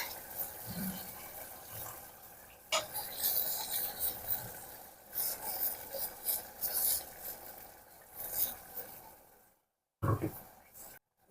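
Masala paste sizzles and crackles as it fries in hot oil for a Telugu-style stuffed brinjal curry, with stirring scrapes against the pan throughout and a brief silent gap near the end.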